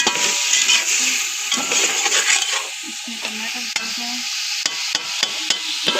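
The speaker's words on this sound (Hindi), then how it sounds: "और अब इसको ये भूनेगी बहुत अच्छी तरह से।" Masala for chicken pulao fries in a pan and is stirred vigorously, giving a loud close sizzle with repeated scraping strokes and sharp clinks of the spoon against the pan.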